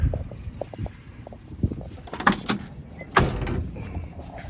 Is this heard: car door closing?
yes